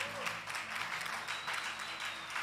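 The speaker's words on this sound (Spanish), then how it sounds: "Un aplauso para este hombre." Audience applause for a man at a Spanish-language church gathering, steady clapping throughout with a faint whistle and music or voices beneath.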